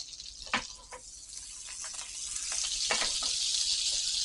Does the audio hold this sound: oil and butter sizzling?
yes